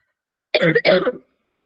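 A single throat clear followed by a short cough, close and fairly loud, in a quiet room with no talking.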